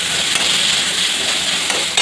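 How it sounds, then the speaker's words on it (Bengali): Carrots fry in a pan with a steady, close hiss of sizzling oil, broken by a few faint stirring scrapes, continuous for about two seconds with no voices. "এই যে গাজর ভাজা হচ্ছে আপনার"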